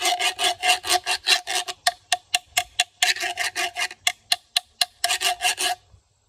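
A hollow gourd percussion instrument with ridges on the back, an open fish-mouth opening and holes in the bottom, struck and scraped in quick rhythmic runs: dense rasping bursts, then a stretch of separate dry taps, then rasping again, close and loud.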